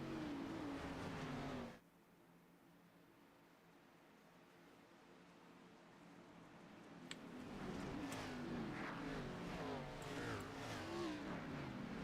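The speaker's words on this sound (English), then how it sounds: "pace car getting ready to take that hard left-hand turn onto pit road" Race cars behind the pace car at Daytona Superspeedway in the iRacing game give a steady broad engine roar, dipping to a quieter hum before swelling back louder as the field approaches.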